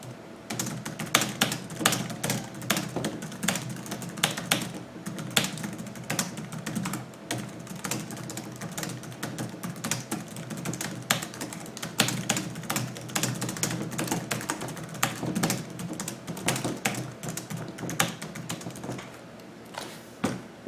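Typing on an HP Pavilion Artist Edition laptop keyboard, a quiet continuous stream of soft tactile key taps with irregular rhythm, close and alone without talk.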